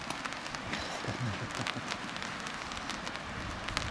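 Rain patters on a tarp shelter while camping in Montana's Bob Marshall Wilderness, a steady close spatter of drops with irregular louder taps throughout.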